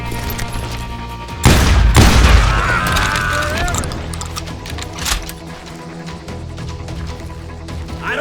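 Shotgun blasts in the Western video game Call of Juarez: Gunslinger, with a loud booming shot near the start followed by a second heavy blast, then trailing echoes and scattered smaller gunfire under game music and ambience.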